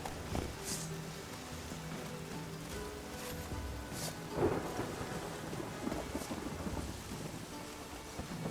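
Rain and thunder in The Witcher 3 make a steady hiss of rainfall with low rolling rumbles, a louder thunder swell around the middle, all continuous and fairly close.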